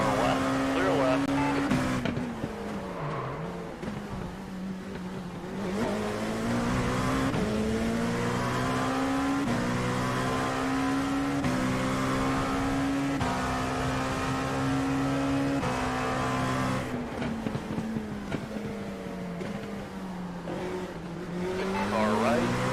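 Race cars circling Imola in a racing video game, a steady loud engine drone rising and falling through gear changes, with other cars close by and occasional tire squeal.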